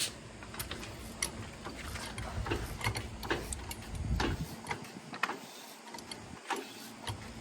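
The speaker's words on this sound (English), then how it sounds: "Let's start jacking this thing up here." A car jack is pumped to raise a car, giving a series of quiet, fairly regular mechanical clicks and ticks close at hand, fading toward the end.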